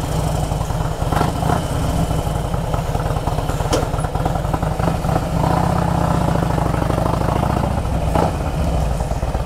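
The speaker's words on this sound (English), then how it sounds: "That exhaust note is brought to you by V&H." A Harley-Davidson Road King with a Vance & Hines exhaust idles close by, a loud loping rumble with a steady uneven beat and occasional sharper clatters over nine seconds.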